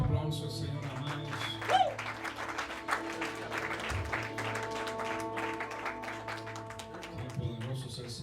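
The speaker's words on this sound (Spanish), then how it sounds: "aplauso al Señor, amados" A church congregation claps through a worship service, the applause mixed with sustained music and voices talking over it, a busy, moderately loud blend with a brief swell of clapping near the start.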